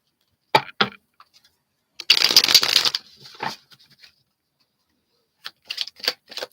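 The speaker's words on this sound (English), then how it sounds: "Two more shuffles." Tarot cards are shuffled in a live reading, giving crisp papery riffles and taps, one dense burst of flicking in the middle and scattered short card snaps before and after, close and fairly quiet.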